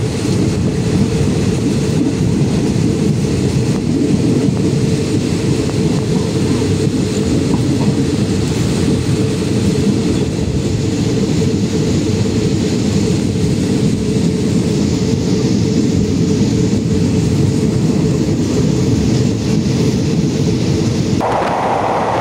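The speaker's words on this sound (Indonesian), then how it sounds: "Kereta api Rapid nomor 141 saat ini sedang memasuki terowongan terpanjang di Thailand." Steady, loud rumble of a passenger train rolling along in Thailand, continuous low roar throughout with a slight change in tone near the end as it enters a long tunnel, no voices.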